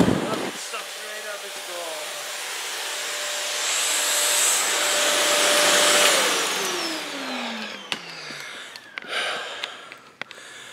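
Household vacuum cleaner running steadily at close range with a rising whine, then a pitch drop and rustling clatter near the end as it is moved or switched off, with voices briefly over it.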